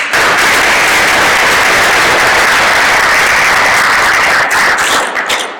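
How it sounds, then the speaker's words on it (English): A large audience gives loud, sustained applause for speakers, a dense close roar of clapping that holds steady and then tapers off with a few last claps. "Could we give them one more round of applause?"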